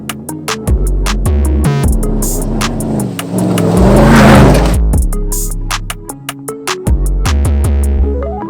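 A Toyota off-road race car prepared for King of the Hammers revs its engine loudly, with sharp repeated bursts, a sustained rising roar in the middle, then more staccato blips close to the microphone.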